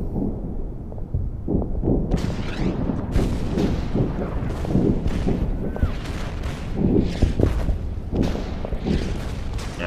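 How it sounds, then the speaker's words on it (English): Artillery fire in the Order of Battle wargame, set in the US Marine battle for Saipan, sounds as a dense run of booming blasts and gunfire crackle, loud and continuous over a low rumble. "Yeah, that artillery is deadly."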